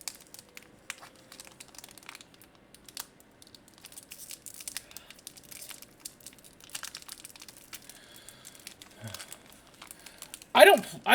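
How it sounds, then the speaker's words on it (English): A pack of Digimon trading cards crinkles and tears open, followed by soft card shuffling. A person keeps talking throughout, and a louder burst of wrapper crackle comes near the end. "I open up this and shuffle this pack of cards."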